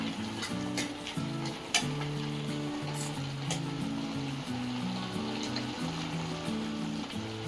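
Bottle gourd halwa with cardamom powder is stirred in a hot pan, a steady frying sizzle with scraping spoon strokes running throughout, close and fairly loud with no talking.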